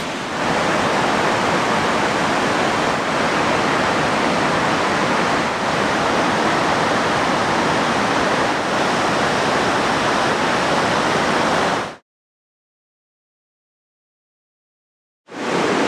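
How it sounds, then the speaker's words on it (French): A loud, steady roar of rushing water from waterfalls on a river in Chiapas, Mexico fills the air without a break, then cuts to silence before briefly resuming. "il y a des cascades, la rivière est couleur émeraude"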